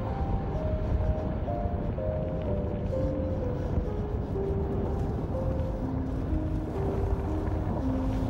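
Cold, biting wind blows through the abandoned ghost town of Vivikona in Estonia, a steady broadband rumble and roar with gusty buffeting that lasts the whole stretch. No voices are heard.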